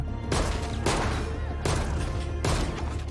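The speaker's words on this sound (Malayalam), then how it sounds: "ആർമറിയിൽ നിന്ന് വരുന്ന വെടിയുച്ചകൾ കേട്ടു" Gunfire from a shootout in the Korean film Night in Paradise, with three loud bursts of rapid shots separated by short pauses.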